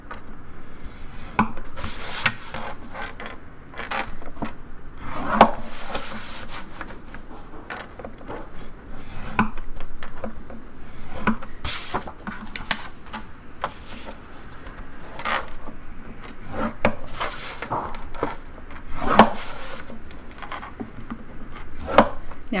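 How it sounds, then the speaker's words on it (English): Paper scored on a scoreboard for a file folder mini album, a long series of repeated scraping strokes and taps, close and steady with no talk. "We're going to score 1/2 inch on 3 sides, so grab your scoreboard."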